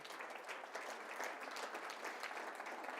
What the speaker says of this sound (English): Round of applause for Wilson Magnet High School.